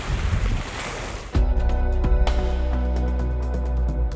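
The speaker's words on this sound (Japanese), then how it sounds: "午後になるとやはり風が吹き始め" Strong afternoon wind on a Patagonian lake at the southern tip of South America, roaring loud and steady across the microphone, with a rumbling, droning tone taking over partway through.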